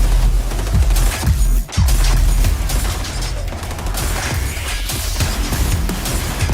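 Dense gunfire and launcher shots from the Highwaymen faction in the XDefiant video game, a rapid barrage of loud bursts with booming impacts running continuously through the whole stretch.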